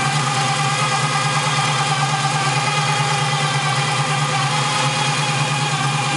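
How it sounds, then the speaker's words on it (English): A 1969 Camaro Z28 clone's 350 V8 with a gear drive and long tube headers idles at a steady, close, even rumble, with no voices over it. "Long tube headers and the gear drive sounds really cool."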